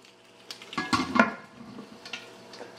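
A metal lid is set back down on a pan of snook cooking on an outdoor cooker, with a couple of close clattering knocks over a faint sizzle.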